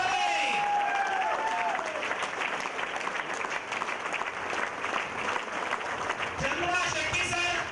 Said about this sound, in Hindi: ताली बजाइए टीचर